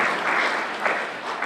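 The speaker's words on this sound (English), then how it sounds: "Let's give them a round of applause." An audience gives a round of applause at a congressional candidates' forum hosted by a chamber of commerce, a dense, steady clapping that fills the room without a break.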